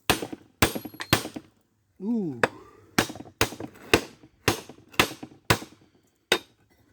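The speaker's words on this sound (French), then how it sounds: "Marteau." Sharp metallic hammer blows on a chisel while a washing machine motor is taken apart, about ten loud, evenly spaced strikes with a short gap where a man makes a brief vocal sound.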